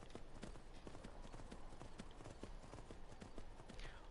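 Horse hooves clip-clop in a steady trotting rhythm through the Skyrim video game, the repeated thuds sitting close and clear over a continuous game soundscape with a brief voice underneath.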